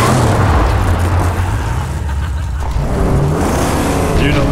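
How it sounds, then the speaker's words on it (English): A V8 car engine in the Mad Max video game roars loud and close, a deep, rumbling, continuous drone with shifting pitch that dips and rises again. "engine roar from the V6 or V8 monsters that sound authentic"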